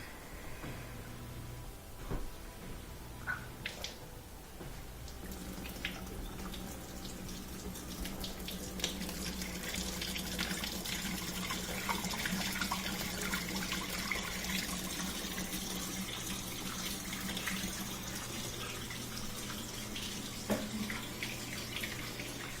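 A Kenmore portable dishwasher drains water after being fixed, a continuous close gush and splash of flowing water with scattered clicks and knocks, steady in level from start to finish.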